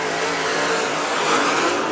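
Race cars roar together around a speedway oval in a steady, loud, dense engine drone that holds close and continuous throughout, with no talk over it.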